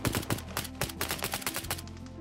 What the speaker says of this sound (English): That's the sound of Ukrainian soldiers shooting at Orlan-10 drones,